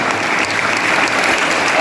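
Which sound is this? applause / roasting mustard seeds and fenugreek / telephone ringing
applause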